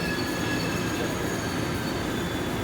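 Steady rumbling roar inside an air-conditioned commuter train in Taipei, with continuous wheel and track noise, a thin high whine running throughout, and no voices.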